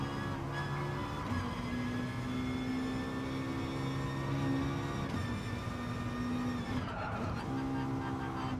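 Racing car engines lapping the Nordschleife in the GT Sport video game, a continuous loud engine drone with shifting pitch as several cars run close together, plus brief tire squeal.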